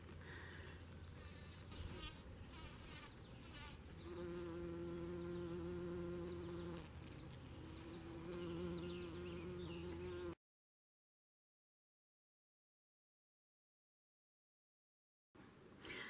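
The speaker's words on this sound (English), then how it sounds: "I'm standing by a rhododendron watching the bumblebees." Bumblebees hum around rhododendron blossoms outdoors, a faint, steady buzz with a few louder droning passes up close, then a stretch of silence before the sound briefly returns.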